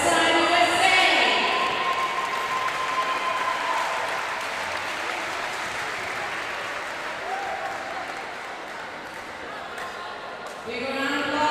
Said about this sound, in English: round of applause for LVDK Sweden